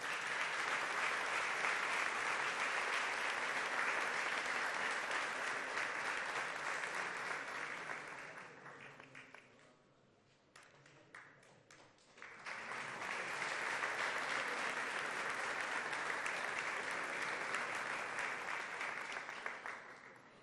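Sustained applause from a large audience at an award presentation during the centenary ceremony of the Confederación Hidrográfica del Segura, a dense even roar of clapping that fades briefly to scattered claps before swelling again.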